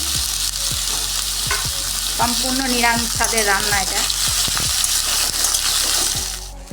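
Potato, taro, flat beans, eggplant and other vegetables sizzle steadily in hot oil for a vegetarian spinach dish, with a spatula scraping and clattering the pan in repeated strokes; someone speaks briefly over the cooking.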